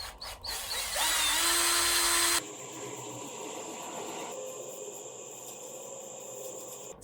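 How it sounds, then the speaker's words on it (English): Power drill driving screws to fix a chain to both sides of a handmade fantasy golf bag, a loud whirring burst of just over a second followed by a steady fainter mechanical hum. "I'm going to screw this chain into both sides of these"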